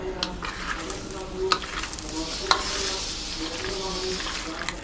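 Chital fish, potato and spices for Bengali chital muitha are mixed by hand close up, making wet squishing and stirring noises with scattered sharp clicks over a faint sizzle.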